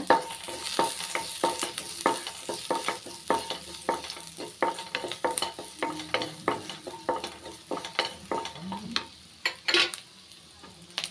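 Finely chopped garlic fries in butter in a pan for vegetable soup, a soft steady sizzle broken by many rhythmic scraping and tapping strokes of a spatula against the pan, close and continuous throughout.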